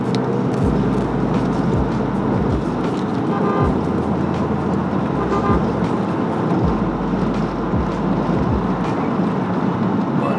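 Chrysler 300C sedan driving at highway speed, around 100 to 120 km/h, heard as a steady, loud drone of engine and road noise throughout with no distinct rise in pitch and no talking.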